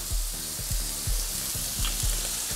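Chili oil poured over teppanyaki chicken breast on a hot griddle, a loud steady sizzle with repeated low thumping bursts from the pan, close up and alone.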